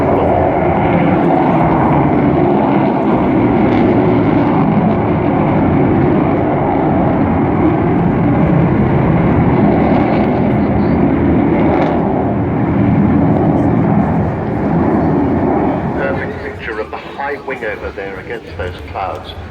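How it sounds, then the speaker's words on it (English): The Avro Vulcan XH558 bomber flies its final display at Bournemouth. A loud, steady jet roar runs continuously under a commentator's voice, then eases slightly toward the end. "What a beautiful backdrop to have this wonderful aeroplane displaying in front of us."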